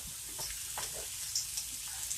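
Garlic sizzles in a pan for a chicken and asparagus pan sauce, a steady hiss of frying with a few soft pops and stirring scrapes, and nobody speaks.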